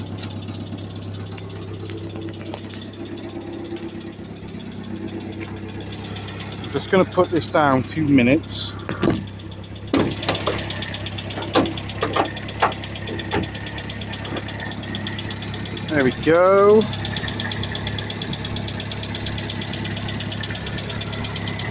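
An old Land Rover diesel engine idles steadily with a light ticking tappet clatter, while someone talks briefly over it nearby.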